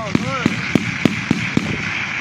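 Gunfire during live combat involving Azerbaijani soldiers: six sharp shots spaced roughly a quarter second apart, each a loud crack above a steady background of talk and engine-like noise.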